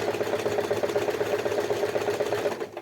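A sewing machine stitches fabric for an apron, making a steady, close mechanical whirr with a fast needle chatter. It runs continuously at even speed with no voices.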